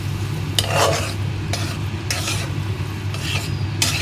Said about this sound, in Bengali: বেগুন ভাজার পরে ওই তেলের পরে আবার একটু দিয়ে একটু গরম করে নিচ্ছি আর কি